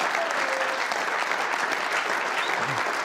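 A large crowd applauds loudly and steadily at a political event attended by members of Congress, a dense, continuous wash of clapping from start to finish.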